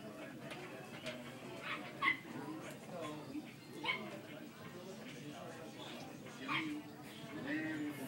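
A greyhound yips, whimpers and gives short barks in scattered bursts, fairly close, while people talk throughout.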